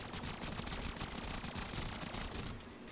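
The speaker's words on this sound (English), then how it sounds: "I am firing so fast on him" Rapid, sustained automatic gunfire from the Call of Duty Modern Warfare III Zombies video game, a dense unbroken stream of shots played loud for nearly three seconds before easing slightly at the end.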